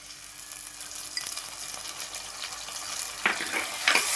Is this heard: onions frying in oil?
yes